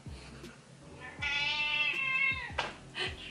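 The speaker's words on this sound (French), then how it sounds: "j'ai un chat qui est en train de râler" A house cat meows and complains in a long, drawn-out, whiny caterwaul near the microphone, with soft thumps and shuffling around it.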